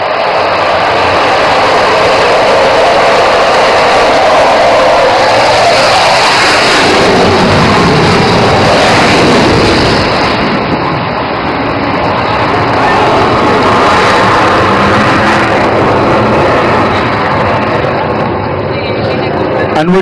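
A Rafale fighter jet takes off at an airshow in Assam, its engine a loud, continuous roar that swells and shifts in tone as the aircraft climbs away, filling the whole span.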